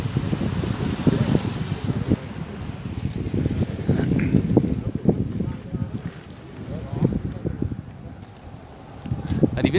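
Strong wind buffets the microphone during a storm chase near Amiens in northern France, a rumbling gusty roar with people talking over it.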